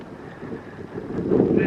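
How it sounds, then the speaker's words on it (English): Wind gusts buffet the microphone at a scenic canyon viewpoint in Luxembourg, a low rumbling roar that swells louder toward the end. "It's going to be windy."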